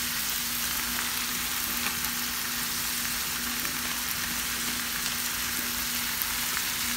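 Ground meat browning with taco seasoning in a sprayed pan, giving a steady, dense sizzle and crackle that holds evenly throughout, close and continuous with no voices.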